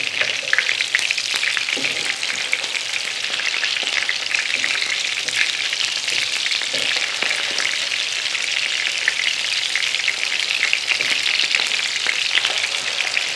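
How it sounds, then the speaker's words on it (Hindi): An omelette fries in a hot pan, cooked on both sides for a cheese omelette burger, giving a loud, unbroken sizzle with occasional soft crackles and stirring sounds, close and steady. "चलिए अब इसको हम फ्राई करते हैं दोनों तरफ से"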